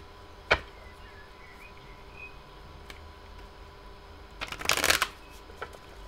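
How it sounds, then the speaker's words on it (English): Tarot cards are riffled and shuffled close by: a single sharp snap early, then a quick rapid flutter of cards near the end, otherwise quiet. "I'm just going to shuffle a few more times"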